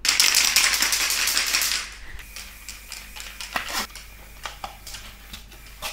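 A spray can hissing paint onto a shoe for hydro dipping, one loud continuous burst lasting about two seconds, then stopping and giving way to scattered clicks and handling noises.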